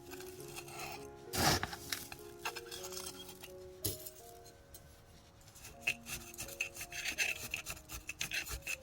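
Scraping, rubbing and gritty crunching of potting soil being pressed and packed into a pot of succulents, with occasional light clinks, close up and fairly quiet.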